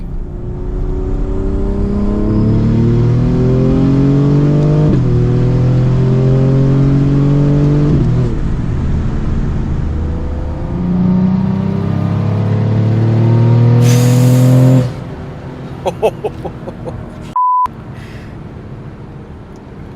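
A 700 to 800 horsepower BMW in Sport Plus mode accelerates hard from inside the cabin, its engine note climbing through several gear shifts in a loud, steady roar before easing off.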